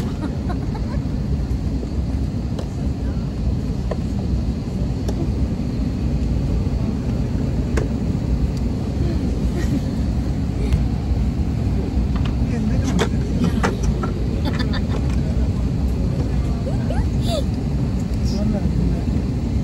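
A constant low engine drone with a breathy rushing hiss fills the whole stretch inside an airplane cabin at the start of a flight, with muffled voices faintly underneath.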